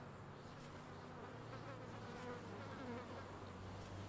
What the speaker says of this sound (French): J'entends beaucoup de mouches, hein, tout de même.